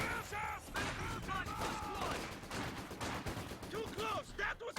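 Vickers machine gun bursts in Company of Heroes 2, rapid distant clatter running through the whole stretch alongside other battlefield gunfire, with a commentator's voice faintly over the top.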